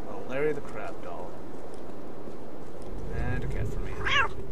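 A cat in the Postal 2 video game meows several times, short rising calls near the start, middle and end, with game sounds and someone talking around them.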